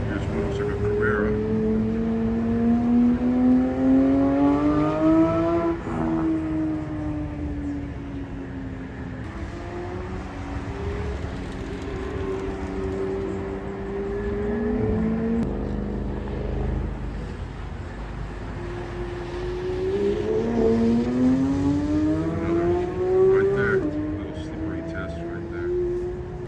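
A Porsche Carrera circles a slippery training track at a Los Angeles driving experience center, its engine rising and falling in repeated sweeping pitch as it spins and accelerates, heard at moderate distance with people talking over it.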